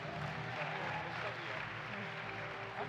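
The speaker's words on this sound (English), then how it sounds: "let's give our graduates the applause for getting here as well" Audience applause for graduates at a Black graduation celebration, a steady mass of clapping from the crowd that holds for the whole stretch at moderate volume, mixed with some murmuring.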